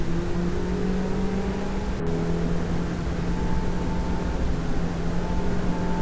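Mazda MX5 race cars heading three wide into the first corner in a reverse-grid race: steady engine drone with several overlapping tones shifting in pitch, moderately loud and continuous, no voices.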